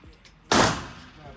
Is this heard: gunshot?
yes